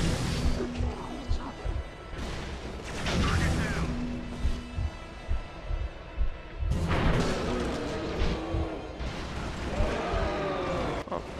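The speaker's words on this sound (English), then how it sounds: "I'm hearing gunfire from your direction." Bursts of gunfire and booming impacts in the video game Resistance 2 come in waves, loud and chaotic, with speech mixed in between the volleys.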